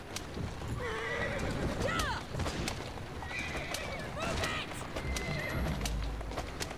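Horses in the Assassin's Creed Syndicate video game whinny repeatedly over steady galloping hoofbeats, with people talking throughout.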